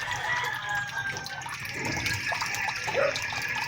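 Water running into a tank through a float valve, a steady close trickle and splash with a faint rooster crowing somewhere in the background.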